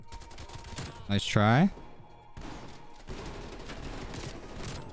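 Shotgun gunfire in Call of Duty Cold War, a Dark Ops challenge mode, with a short burst of loud blasts and a brief voice over game noise.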